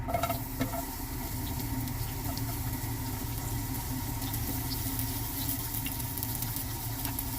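Faint, steady frying hiss of onion in hot oil, a soft continuous crackle and patter with a low background hum.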